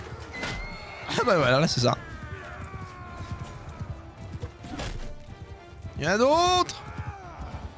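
Horse neighing in a Warhammer-modded medieval battle game, two loud whinnies a few seconds apart over clattering hooves and combat noise, with someone speaking French between them.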